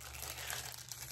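Plastic packaging on a diamond painting kit crinkles and crackles as it is unwrapped, a quiet, brief rustle close by over a low steady hum.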